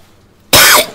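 A single sharp, loud cough bursts out after a quiet moment, then fades.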